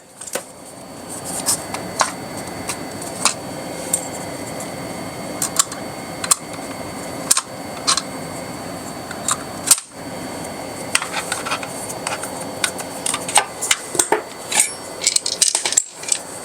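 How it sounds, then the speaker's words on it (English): Screws come out of a VMAX V2 e-bike during a rear hub motor install, giving a steady run of sharp metallic clicks, ticks and taps at close range, with no talk. "I'm taking all the screws out."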